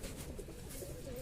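A Kalshera Bengal pigeon gives a brief, faint, low coo that lasts only a moment.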